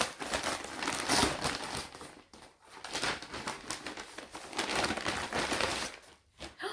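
A publisher's book package is unwrapped with close, continuous paper crinkling and rustling that comes in bursts, with brief pauses, and no talking.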